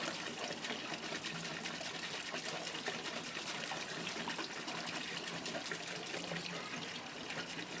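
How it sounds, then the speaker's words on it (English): Sealer and thinners poured from a container into a mixing tub for a patterned concrete driveway, a steady continuous gushing, splashing liquid stream heard close up throughout with no talking. "I'm now emptying the sealer and some thinners into a mixing tub."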